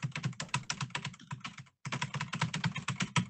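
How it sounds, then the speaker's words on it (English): Computer keyboard keys clicking as picked up by a microphone, a rapid, dense run of close, sharp taps with a brief pause midway, then resuming at the same busy pace. "You all have like the worst sounding keyboards on mic."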